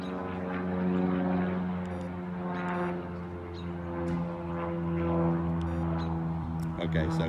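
A propeller airplane droning overhead during an outdoor dog training session, a loud steady engine tone that swells and fades slightly across the clip, with a person talking faintly underneath.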